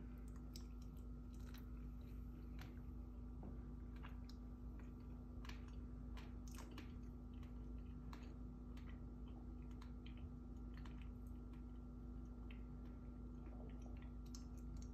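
Faint, close chewing on a Roja breba fig, its seeds giving off scattered small crunches and clicks over a quiet, steady background hum.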